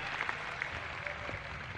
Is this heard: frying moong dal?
no